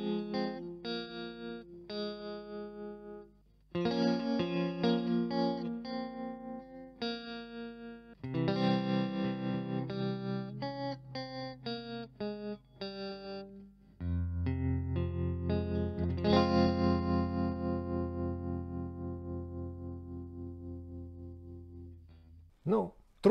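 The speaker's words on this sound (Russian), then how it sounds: "Ну вот типичное такое ламповое тремоло." Electric guitar played through a tube-style tremolo effect, chords and notes pulsing in steady rhythmic waves of volume, loud and close, with sustained ringing passages and no talking.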